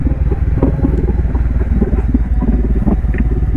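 A motorcycle engine braking on a steep descent of a winding mountain road between Atok, Bakun, Kibungan and Kapangan toward Baguio, heard as a steady, loud, throbbing low drone that fills the whole stretch without pause.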